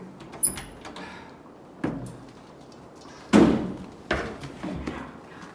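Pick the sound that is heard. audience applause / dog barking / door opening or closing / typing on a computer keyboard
door opening or closing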